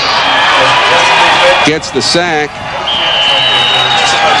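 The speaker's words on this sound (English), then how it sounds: "And the home crowd cheering on that Trojan defense." A home crowd roars in a steady wash of cheering for the Northwestern Trojans' football defense against Summerville at a 2001 high school game, with an announcer talking over the noise throughout.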